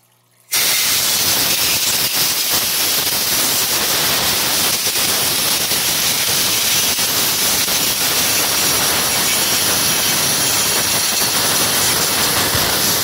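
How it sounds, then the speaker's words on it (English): An air compressor hose blowing air, starting abruptly after a brief quiet moment into a loud continuous broadband hiss that holds steady and close for the rest, with no talking. "I'm going to grab my air compressor hose."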